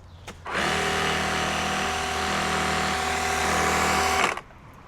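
Fanttik NB8 cordless folding pressure washer on its second setting: a loud, steady motorized whine with a constant pitched hum, starting abruptly after a brief click and stopping sharply about four seconds later.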